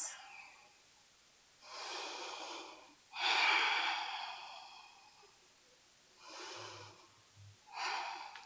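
Slow, deep breaths drawn during a yoga hip pose, several long airy inhales and exhales spaced a second or two apart, soft and close with no talking.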